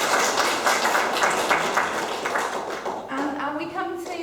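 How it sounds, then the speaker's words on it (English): An audience at an annual general meeting applauds the team, a dense crowd clapping that fades after a few seconds as a voice begins speaking. "So please give my team a massive applause."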